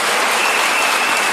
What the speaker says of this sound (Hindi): थोड़ा एक बार जोरदार तालियों से बताइए।